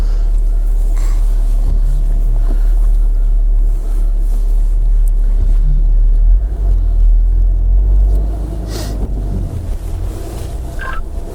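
An INEOS Grenadier 4x4 rumbles slowly over a technical off-road course, its low engine drone steady with wind buffeting and cabin clunks, growing rougher near the end.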